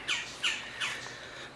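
A bird perched overhead squawks three times in a row, harsh and loud, about a third of a second apart, the calls clear and alone.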